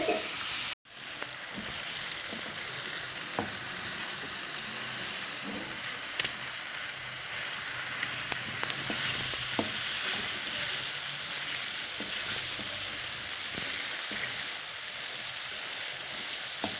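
Chicken sizzles and fries in a pan with chilli, chilli flakes, tikka masala and cumin being stirred in, a steady bright hiss with occasional scrapes and clicks, fairly quiet and without talk.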